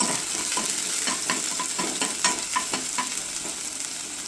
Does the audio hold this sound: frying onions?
yes